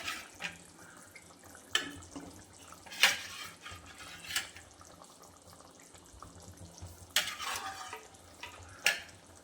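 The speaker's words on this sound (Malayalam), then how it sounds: "ഇതിലേക്ക് ഇനി നമ്മുടെ മുട്ടയും കൂടെ ഇട്ട് കൊടുക്കും" Whole eggs go into a thick egg curry gravy in a pan and get stirred, giving soft wet scraping and sloshing with a few sharper clinks of the spoon against the pan, close up, with no voices.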